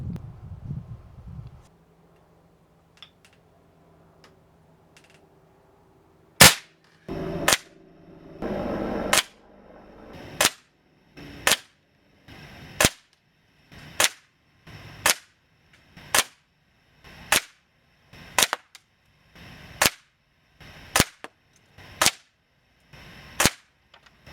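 A vintage 1960s Benjamin Franklin Hot Shot BB gun fired at a target, about fifteen sharp, loud shots in a steady rhythm of roughly one per second, with a few quieter clicks and handling noises before the first shot.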